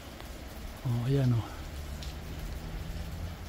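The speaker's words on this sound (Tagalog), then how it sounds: "Sa kasalukuyan umuulan pa rin hanggang ngayon." Steady rain falls in a constant wash, with a short spoken word over it partway through.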